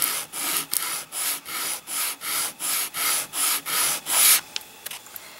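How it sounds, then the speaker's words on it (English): Medium grit sand sponge rubbed back and forth over cardboard edges, about ten even rasping strokes in a steady rhythm, close and fairly loud, then a few lighter scrapes. "So I'm using a medium grit sand sponge."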